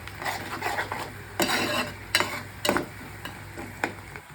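Onions and green chillies frying in a pan, with repeated stirring and scraping of a spoon against the metal and a steady low sizzle, loud and close, with no talk.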